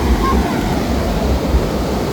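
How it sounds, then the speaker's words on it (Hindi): Rough sea waves surge at high tide on a beach in Goa, a loud, continuous wash of surf roaring steadily close by with no clear breaks. "बहुत रफ है सी इस समय।"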